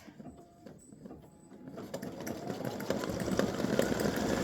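A computerized embroidery machine stitches a cross design on card stock, its needle running in a fast, steady mechanical chatter that grows louder and denser after a quieter start, with no voices.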